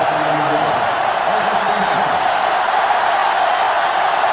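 Stadium crowd in the NCAA Football 2005 video game, a Florida State versus Miami matchup, roaring in a steady, dense wash of noise with a voice briefly audible underneath early on.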